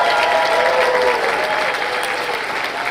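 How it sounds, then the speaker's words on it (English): Audience at an accelerator demo day claps loudly and continuously, a thick sustained round of applause with a faint voice underneath. "Could we give her a round of applause?"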